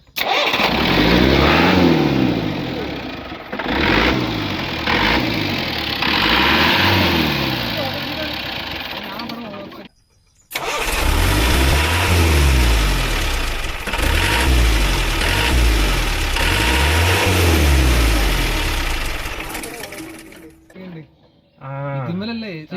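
An old Swaraj Mazda truck diesel engine cold-starts after years of sitting. It cranks, catches and runs loud and rough, cuts out briefly, then fires again and revs unevenly before dying near the end. Voices may be present in the background.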